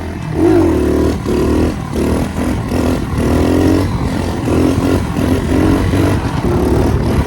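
A pit bike engine revs loud and close, accelerating in repeated surges as it shifts up through the gears to fourth, each rising whine cut by a short drop between shifts.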